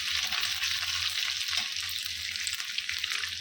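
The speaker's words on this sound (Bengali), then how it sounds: "রসুন কুচিটা আমি হালকা ফ্লেমে একটু নাড়িয়ে চাড়িয়ে নেবো" Chopped garlic cooks over a low flame with a steady, bright hiss and sizzle, close and even, while faint, soft scraping from slow stirring runs beneath it.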